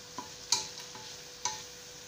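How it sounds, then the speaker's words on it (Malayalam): Onions frying in a pan for a Kerala-style spicy potato curry, stirred with a few sharp scraping clacks of the spoon against the pan over a quiet, soft sizzle. "ഇനിയൊന്ന് റെഡിഷ് കളറാവുന്ന വരെ നമുക്ക് ഇളക്കി കൊടുക്കാം."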